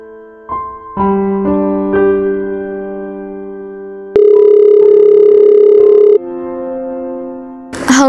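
A telephone tone plays while a call is placed, giving a run of steady electronic pitched beeps that step between notes, loud and clean with no voices.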